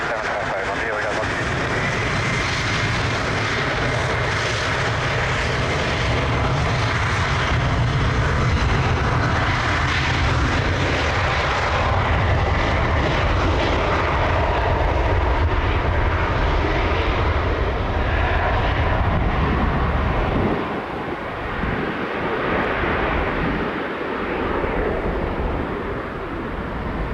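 Loud, sustained roar of airliner engines at Lisbon Airport, a broad continuous rumble that holds steady before easing off near the end, with radio voices talking over it.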